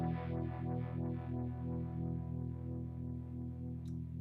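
Electric guitar through a Spark amp with uni-vibe style modulation, a sustained distorted chord swirling in steady rhythmic sweeps, loud and close with no voices.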